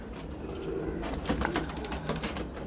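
A red-eyed pigeon coos in low, repeated pulses, with rustling and handling noise around it and a few louder bursts near the middle.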